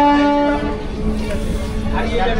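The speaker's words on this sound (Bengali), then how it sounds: "দেখতে পাচ্ছেন এখন এই ট্রেনটি ছেড়ে দিচ্ছে।" Bandel local train pulling out of the station, a steady rumble of moving railcars with a brief tonal horn-like hum at the start, fairly loud and close, with background voices.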